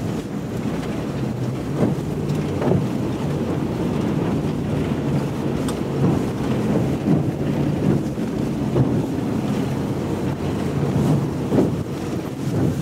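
Strong wind roars steadily through a snowbound county road during a blizzard, a loud continuous rush of gusts buffeting the microphone, with a low engine drone underneath.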